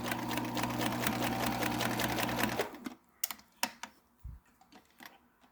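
A sewing machine stitches cabin window covers in a fast, steady mechanical whir for a few seconds, then stops, leaving a handful of close clicks and fabric handling knocks.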